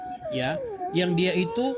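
A cat meows in a few drawn-out, wavering cries, fairly close, while someone talks over them.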